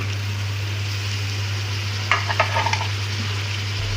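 Tomatoes dropped into onions frying in oil with seeds, a faint steady sizzle over a low hum, then a short cluster of clatters and spatters as they land, with no talking.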